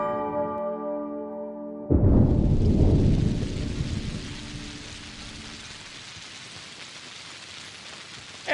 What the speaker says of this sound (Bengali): এই দেখো আবার বৃষ্টি শুরু হয়েছে